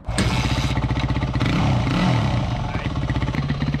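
A tuned motorbike, kick-started, runs loud and close with a rapid pulsing engine beat that briefly revs and then settles back to a steady idle.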